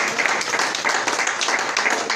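A church congregation applauds, with dense, continuous clapping from many hands that is loud and close, and a faint murmur of voices underneath.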